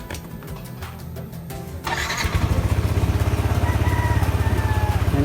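A Yamaha Nmax scooter engine cranks briefly, catches, and settles into a steady, close idle with an even, throbbing putter that continues to the end.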